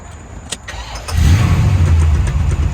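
A 1981 Corvette with a 4-speed manual and new exhaust, cranked briefly after a few clicks, then catching and settling into a loud, deep, steady idle close by.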